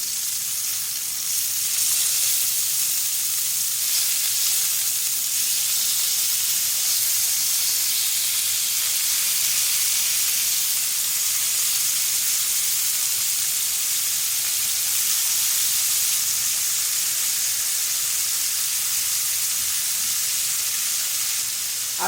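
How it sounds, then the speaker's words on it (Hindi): Chicken grilling on medium heat gives a steady, loud, hissing sizzle that runs unbroken and even throughout, with no voices over it. "मीडियम आंच पे मैं इसको ग्रिल कर रही हूँ"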